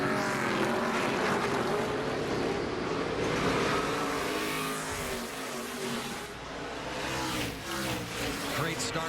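NASCAR trucks roar off the start of a qualifying race on the Eldora dirt track, a dense sustained engine blare with shifting tones that swells and dips, while a commentator talks over it.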